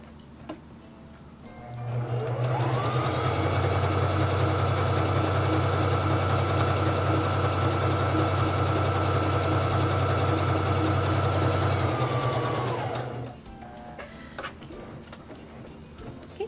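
Singer Fashion Mate 3333 sewing machine stitching a wide zigzag, running as a steady, close mechanical whir with fast rhythmic ticking for about eleven seconds, then stopping.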